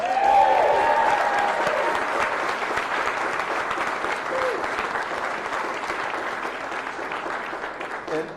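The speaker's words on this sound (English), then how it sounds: "Y'all please give them a round of applause." A room full of supporters at a Florida District 1 Republican primary election-night campaign event gives a loud, sustained round of applause that slowly tapers over several seconds.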